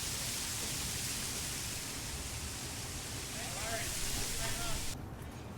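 Waterfall on the Central Coast reached by a rocky scramble: a dense, continuous rush of falling water fills the clip close by, with a few faint voices underneath before it drops away at the end.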